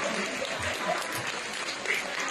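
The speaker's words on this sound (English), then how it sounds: "A big round of applause for all the students who showcased their knowledge and enthusiasm." Audience clapping for students in a science quiz contest at IISF, a short burst of steady, dense applause with a few murmuring voices mixed in.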